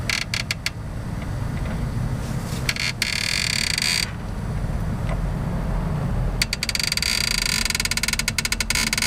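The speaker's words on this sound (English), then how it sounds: "So my assistant's gonna go ahead and pump this up" A jack being pumped to lift a 1985 Eagle Wagon: loud, close creaking and rattling mechanical strokes over a constant rumbling background, with bursts of metallic clicking near the start and end, and no talking.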